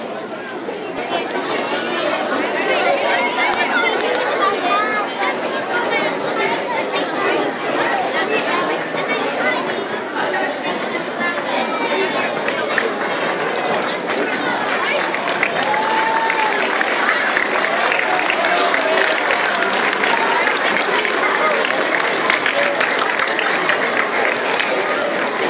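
A large crowd chatters steadily inside a middle school concert venue before a saxophone performance, a dense, loud, unbroken murmur of many voices with faint scattered shouts.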